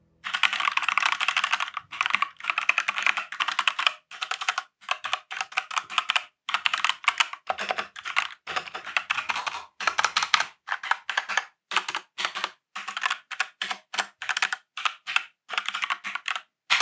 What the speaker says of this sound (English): This is what it sounds like to use this keyboard.